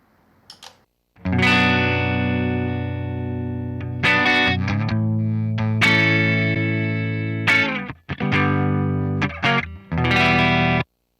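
A distorted electric guitar plays through a Hotone Ampero multi-effects processor, sustained chords and riffs with heavy effects, loud and close, with brief pauses between phrases.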